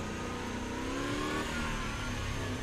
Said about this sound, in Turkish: Motor sesine bak.